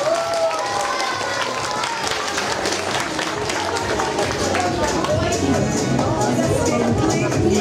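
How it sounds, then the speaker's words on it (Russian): Audience applause for a young performer at a talent show, a dense, steady wash of clapping that fills the hall at an even level throughout, with some murmuring and voices mixed in. "Мы ее поддержим аплодисментами обязательно"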